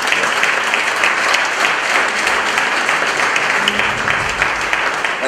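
Audience applause at a round table introduction in Treviso, dense continuous clapping from a crowd that stays steady and fairly loud throughout.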